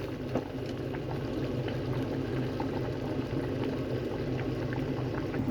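A pot of mushroom and pork bone soup bubbling at a steady boil, a continuous close, even simmering roar with faint bursts of bubbles throughout and no other sounds.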